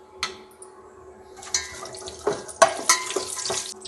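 Whole spices such as fennel, cumin, peppercorns, cardamom, cinnamon, cloves and bay leaf fry in cooking oil in a home kitchen, giving a soft sizzle with clinks and scrapes from stirring, plus some splashy water-like sounds.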